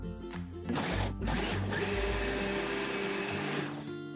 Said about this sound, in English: put the lid on and give it a blend